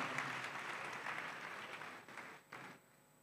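Audience clapping at an awards ceremony, faint and distant, steady for about two seconds before thinning out and fading near the end.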